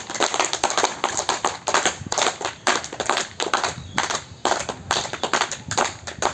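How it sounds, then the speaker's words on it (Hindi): Audience applause for Deepak at a Guru Purnima yoga gathering, a loud, dense burst of many hands clapping that swells and dips in waves and carries on throughout without talk. "दीपक जी के लिए जोर से बजाइए का ताली"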